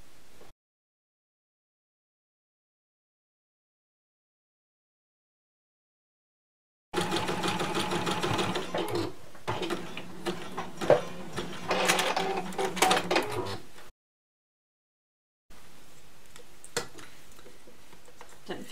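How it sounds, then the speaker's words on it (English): A sewing machine stitches elastic onto homemade underwear in two bursts of fast, even mechanical whirring and ticking, separated by silences, close and with no voices. "So you're sewing the elastic down."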